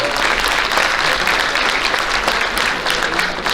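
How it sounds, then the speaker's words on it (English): A room of people claps steadily for the JV team at the 2023 Muleshoe High School athletic banquet, a dense, even burst of applause lasting a few seconds with no talk over it. "Give them a round of applause."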